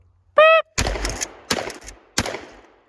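A shooter fires a shotgun during an FBI qualification test, with a short electronic timer beep followed by three loud, evenly spaced blasts, each ringing off with a decaying echo.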